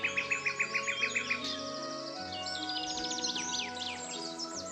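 Birds sing territorial calls: a rapid series of about eight sharp repeated chirps opens, then overlapping whistled trills and warbles from several birds continue, clear and fairly close over a soft steady background tone.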